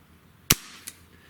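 A single sharp gunshot from a Smith & Wesson 586 revolver firing a 7-grain lead pellet over a chronograph, a loud crack followed by a fainter second snap a moment later.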